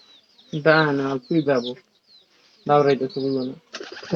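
Two bursts of low, throaty cooing from a pigeon, each breaking into a few pulsed notes, close by with short quiet gaps between.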